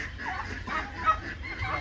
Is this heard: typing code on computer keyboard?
no